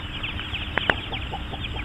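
Chickens cluck softly around a yard while being called, with two sharper close clucks standing out amid quieter scattered clucking and steady background noise.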